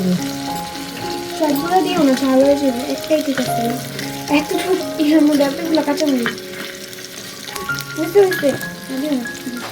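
Turmeric, chilli powder and green chillies fry in a small home kitchen pan, a soft, steady sizzle with stirring beneath someone talking almost continuously.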